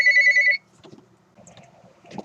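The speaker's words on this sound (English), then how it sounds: "the phone was ringing" A telephone rings in a short electronic burst of rapid repeated tones, loud and close, then cuts off into near silence with faint scattered handling noises.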